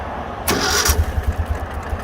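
A 2015 Ural Gear Up motorcycle in Urban Camo paint cranks briefly with the starter, then catches and settles into a loud, close, lumpy idle with steady low pulsing.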